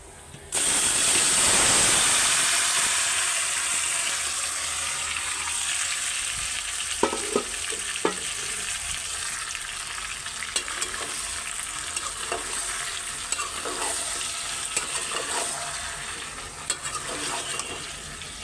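Curry with browned onion stir-fried in hot oil, a steady loud sizzle with a sharp burst at the start, settling into continuous frying hiss with scattered clinks and scrapes of stirring.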